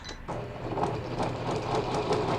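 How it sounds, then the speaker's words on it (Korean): Janome 810 home sewing machine running a triple-step stitch, a steady close mechanical whir with a fast regular needle rhythm throughout, no voices. "그다음에 세발뛰기 바느질"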